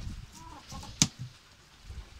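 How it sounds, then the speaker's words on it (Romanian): Brahma chickens on a small farm on a rainy, snowy day, giving soft low clucks with one sharp louder squawk midway, near and alone. "Ia uitați-le, găinile de Brahma."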